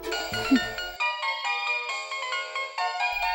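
A phone ringtone plays a bright, tonal electronic melody in repeated short phrases, loud and close, with a brief low thump near the start.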